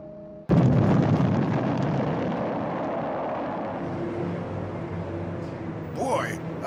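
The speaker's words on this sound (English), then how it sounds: "Boy, that explosion was really exciting. I love when they blast" A sudden loud dynamite blast bursts in underground after a brief quiet moment, then a long rumbling roar slowly fades; a whooshing rises near the end.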